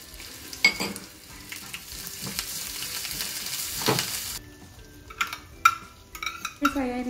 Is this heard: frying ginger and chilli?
yes